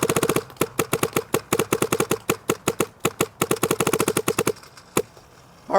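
Dye DSR Pro paintball marker firing a rapid string of sharp, evenly spaced pops, loud and close, ending with a pause and one final shot.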